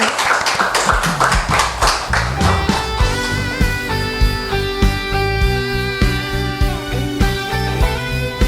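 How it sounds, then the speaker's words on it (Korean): A church congregation bursts into loud, rapid applause during a Sunday worship service. The clapping thins out and fades as organ or keyboard chords swell and carry on alone. "주님께 영광의 박수 올리겠습니다"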